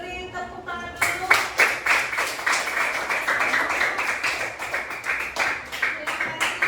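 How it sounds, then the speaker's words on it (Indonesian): A group in a teacher-training classroom session claps after student presentations, the dense, slightly uneven applause starting right after a short spoken line and continuing steadily to the end. "Beri tepuk tangan dulu"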